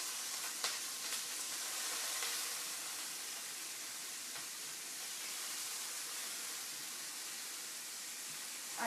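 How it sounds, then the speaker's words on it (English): Ham and cauliflower rice sizzle in a hot skillet, a soft, steady hiss of frying that runs evenly throughout with a few faint clinks, quiet and without speech. "Ooh, it's sizzling."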